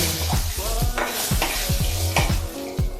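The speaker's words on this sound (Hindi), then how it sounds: "इसमें तड़का लगाने के लिए एक साथ डाल।" Whole spices hit hot oil for a tadka of cumin seeds and bay leaf and sizzle loudly and steadily, with repeated sharp crackles and pops near the microphone.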